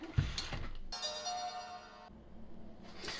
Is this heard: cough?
no